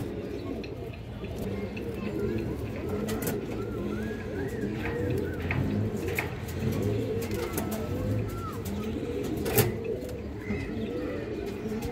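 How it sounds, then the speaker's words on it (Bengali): Female Bezi line pigeon cooing in soft, repeated low throaty calls, with other pigeons cooing and faint chirps around it, steady and fairly close throughout. "বেজি লাইনের একটা মাদি কবুতর"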